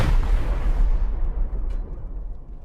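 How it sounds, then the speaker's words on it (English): A single loud, booming gunshot in the video game Rust during a raid cracks out and rolls away into a fading rumble, heard alone. "Oh, more shots."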